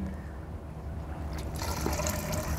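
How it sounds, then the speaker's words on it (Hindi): Water runs from a tap into a blocked drainage pipe, a steady gushing and trickling flow that grows busier and more splashy partway through, close and continuous. "अब मैंने फिर से पानी शुरू कर दिया"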